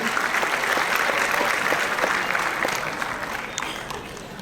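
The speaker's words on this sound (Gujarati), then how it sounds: "આપણે સૌ તાળીઓના નાદથી આ વિકાસની ક્ષણને વધાવીશું." An audience at a public development inauguration in Bhavnagar breaks into sustained applause, dense clapping from a sizable crowd that eases off toward the end.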